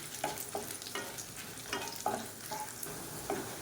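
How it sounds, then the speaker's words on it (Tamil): Tamarind and dried red chillies roast in oil with a low, steady sizzle, while a spoon stirs and scrapes the pan in repeated knocks, close up and quiet. "சின்ன நெல்லிக்காய் சைஸுக்கு புளி அதையும் சேர்த்து எண்ணெயில் போட்டு வறுத்துக்கலாம்"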